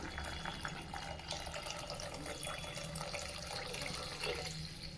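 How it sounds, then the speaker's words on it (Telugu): Water running steadily into a pot of sesame and dried red chilli rasam as it cooks: a continuous, fairly loud splashing and rushing pour that lasts the whole time without a break. "దీనిలో ఇప్పుడు వాటర్ని యాడ్ చేసుకుందాం"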